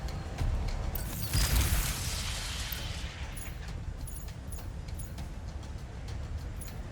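Heavy weapon blast in Ratchet & Clank: Rift Apart, a loud burst with a booming low-end thump near the start, then a rumbling, crackling tail that lingers and slowly fades under continuous game ambience.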